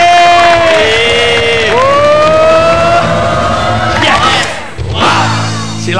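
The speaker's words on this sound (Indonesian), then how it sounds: "kasih tepuk tangan" A studio audience at an Indonesian TV talk show roars with cheering and whoops, loud and sustained throughout, a burst of crowd noise swelling near the end.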